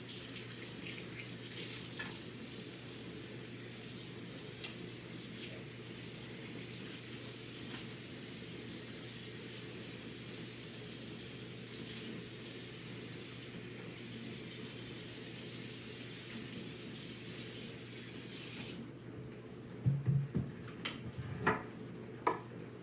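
Tap water runs continuously over a cutting board being rinsed in a kitchen sink after cleaning milkfish, a steady hiss for about twenty seconds before it cuts off, followed by a few clattering knocks.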